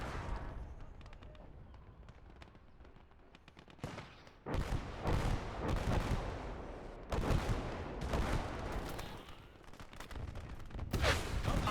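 Heavy gunfire and explosions from a tank battle in the World War II game Gates of Hell: scattered sharp shots give way to loud booming blasts in repeated bursts, dense and rumbling, with no talking.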